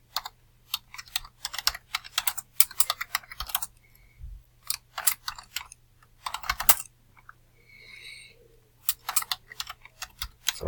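Rapid typing on a computer keyboard, close and crisp, comes in quick clattering bursts separated by short pauses, with a faint steady hum underneath.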